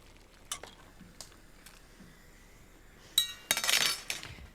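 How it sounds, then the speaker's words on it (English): Fusilloni pasta is stirred in a pan of sauce with a spoon, sparse scraping taps at first, then a louder burst of clinking and scraping toward the end, with no voices. "So in goes my fusilloni. A bit of a stir."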